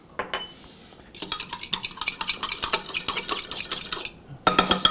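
A spoon clinks and scrapes briskly inside a measuring cup of water and vinegar, rapid close metallic ticks in a steady run, pausing briefly and then resuming louder.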